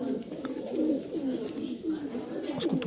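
Soft, low coos of brown Bajra pigeons repeat in a steady rolling pattern, close by in a loft in Tonk, Rajasthan, over a faint background murmur.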